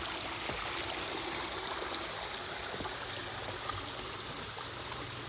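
Water flows steadily in a small stream, a continuous rushing trickle with faint gurgles, moderately close and without voices.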